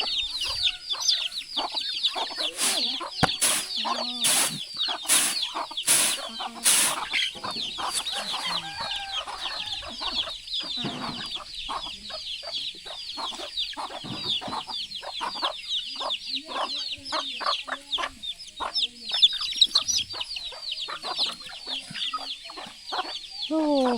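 Chickens cluck continuously around a rural Lao village with an old well, with ducks nearby; busy overlapping clucks and chirps fill the scene, with some sharp knocking sounds early on.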